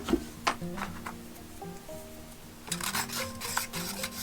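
Homemade fly-tying head cement made from Duco Cement glue stirred in a small container, soft scraping and light tapping strokes up close, irregular at first, then a busier stretch of quicker scraping near the end.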